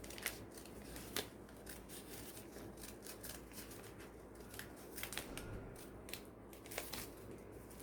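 Scissors snip through several folded layers of newspaper for a paper bag craft, a run of crisp close crunching cuts at an uneven pace with paper rustling between, quiet and with no talking.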